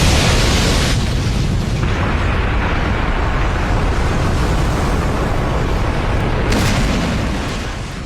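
A massive, sustained anime explosion roars loudly and continuously, a deep rumbling blast with a sharper burst near the end before slowly fading.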